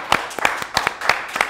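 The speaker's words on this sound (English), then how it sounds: "I want to give her a round of applause" Audience applause on a live talk show, a few sharp, distinct claps in an uneven rhythm, close and fairly loud, more a scattered handful than a full roar.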